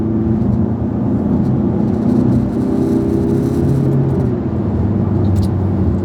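A 2013 Ford Mondeo 2.0 TDCI 163 hp diesel with Powershift gearbox accelerating on the road, a loud, steady engine drone with rising tone and a gear change, heard from inside the car.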